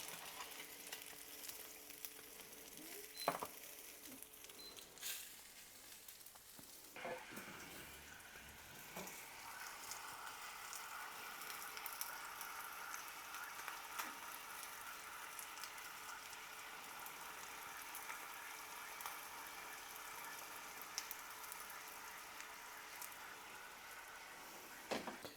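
Salmon fillet sizzling and frying steadily in a pan, a continuous crackling hiss with faint pops and a few utensil taps near the start, no talking.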